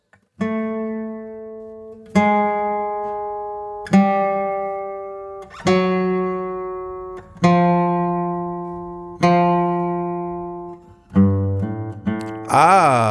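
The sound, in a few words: descending chromatic bass line from a song intro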